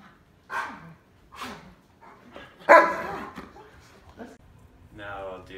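Dogs give a few separate barks spread across several seconds, one louder and nearer than the rest, with people talking and laughing in between.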